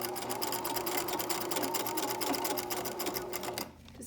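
A sewing machine stitching overlapped elastic on underwear, a close continuous rapid stitching rattle for over three seconds before it stops abruptly.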